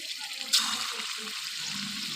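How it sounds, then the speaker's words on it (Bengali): Chicken kofta balls drop into hot oil with a sudden loud burst of sizzle, which settles into a steady frying hiss for the rest of the brief moment. "দেখো তেল গরম হয়ে গেছে, এবার আমি বড়গুলো দিয়ে দেবো।"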